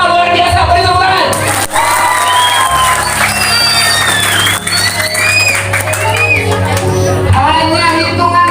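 Sixth-grade primary school pupils in Yogyakarta clap, cheer and shout together in a loud, lively classroom burst. Many children's voices rise and fall over the clapping throughout.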